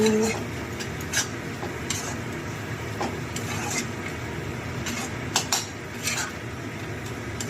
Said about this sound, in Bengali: এবার আমি ভালো করে নাড়াচাড়া করবো।